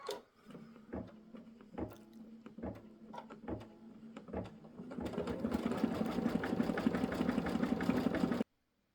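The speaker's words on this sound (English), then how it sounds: "Last bit of satin stitching around the ears, the eyes, and the nose." Embroidery machine satin stitching an applique quilt block, sewing the ears, eyes and nose: a steady mechanical whir with regular needle clicks that grows louder and denser in the second half, then stops abruptly.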